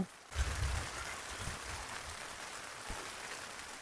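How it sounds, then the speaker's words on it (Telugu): Heavy rain drums steadily on a tent pitched on a hilltop campsite, a dense continuous hiss with a few low thumps of drops near the start, no voices. "హెవీగా అయితే రెయిన్ పడుతుంది"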